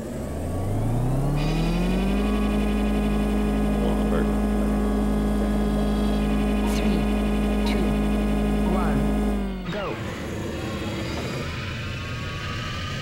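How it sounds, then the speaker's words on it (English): In the futuristic racing video game Extreme-G 2, a loud engine revs up into a sustained high whine that holds steadily, then cuts off sharply near the end as the tone drops away. "Or is it just the revving the engine was really loud?"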